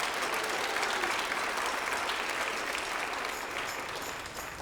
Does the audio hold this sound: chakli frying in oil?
no